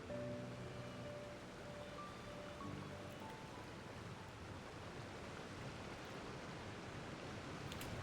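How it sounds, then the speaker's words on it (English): A waterfall in the Genshin Impact video game, in the Fontaine region: a steady, full rush of falling water fills the whole stretch, even and unbroken, with no voices. "I ain't never just smacked into a waterfall before."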